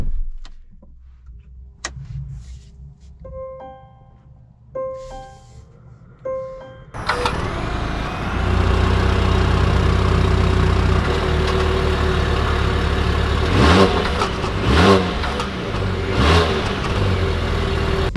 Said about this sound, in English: let's take this Polestar Hybrid out and see how it drives.